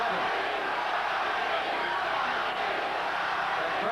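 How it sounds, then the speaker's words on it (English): Boxing arena crowd at a Thomas Hearns vs Doug DeWitt fight chanting a fighter's name, a dense, steady roar of many voices filling the hall, heard from a distance without pause. "The crowd chanting, Tommy,"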